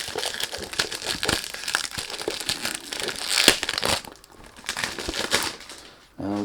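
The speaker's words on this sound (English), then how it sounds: "Sorry about the noise when you do unboxing" Crinkling packaging from unboxing a 100 ml Asdaaf Majd Al Sultan Black Intense eau de parfum box, sounding as dense, continuous close-up rustling and crackling with a brief sharper burst midway and a short quieter gap near the end.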